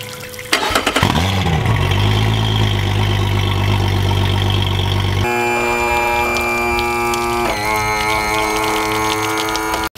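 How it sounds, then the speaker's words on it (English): Yamaha VMax SHO outboard engine on a water hose for flushing, cranking and catching at close range, then settling into a steady buzzing idle that holds for the rest of the clip. "we're gonna turn the water on and we're gonna get the engine running"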